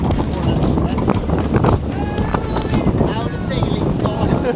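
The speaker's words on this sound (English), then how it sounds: "It was much more wind than expected when we turned" Strong wind buffets the microphone aboard a reefed sailboat beating upwind near the port of Gdansk, a loud rushing roar mixed with water splashing and hull noise, with a voice speaking over it.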